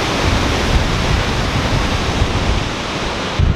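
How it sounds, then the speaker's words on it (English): Yellowstone waterfall roaring over its brink, a steady, loud, broadband rush of falling water that fills the whole stretch without a break and with no voices. "it's just amazing to hear the water and to see it just falling down"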